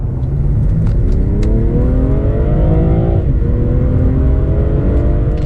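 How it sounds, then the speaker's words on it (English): A stage 1 tuned BMW M340i engine revs hard and climbs in pitch as it accelerates from 30 to 70 mph on a B road, with a brief dip for a gear change before pulling strongly again, loud and close. "let's see what this car does on the 30 to 70 sprint"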